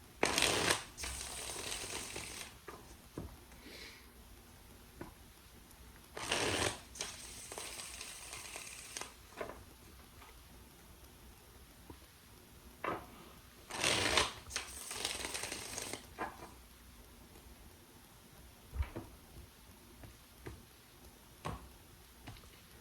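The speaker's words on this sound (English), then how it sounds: "Let's do 3 more shuffles." Tarot cards shuffled in bursts, several riffling rushes separated by quieter pauses with small taps and card flicks, close and fairly soft.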